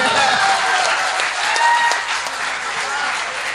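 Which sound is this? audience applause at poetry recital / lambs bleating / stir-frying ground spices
audience applause at poetry recital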